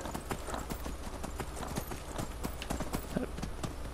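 Horse hooves clip-clopping at a steady riding pace in Skyrim, a dense run of close, even hoofbeats that carries through the whole stretch with game ambience beneath.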